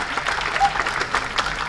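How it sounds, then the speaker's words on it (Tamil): An audience at a Tamil film audio launch event claps together in a short, dense burst of applause that stays steady and fairly loud for its brief length. "அவருக்கு நம்முடைய நன்றியை கைத்தட்டல் மூலமாக தெரிவிப்போம்"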